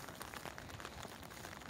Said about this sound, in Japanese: 雨やばい。